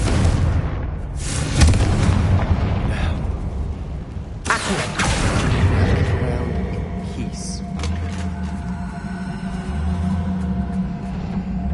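Confringo explosion spells in Hogwarts Legacy go off as two loud bursts a few seconds apart, each with a sharp crack and a fading rumble, over a steady hum of ambient game sound.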